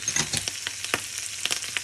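Yellow, red and green capsicum are stirred in a hot pan for an egg noodle dish. Short scraping strokes of a spatula are heard over a steady soft sizzle.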